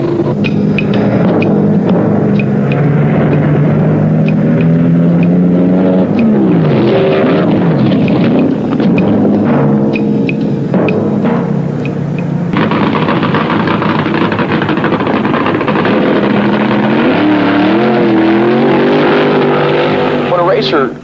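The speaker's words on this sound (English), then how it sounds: "Does burnout at the starting line" A loud, roaring 1974 drag racing funny car engine revs hard and continuously during a burnout at the starting line, pitch rising and falling, with a voice talking over the din.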